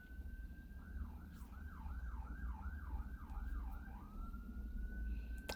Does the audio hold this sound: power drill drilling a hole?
no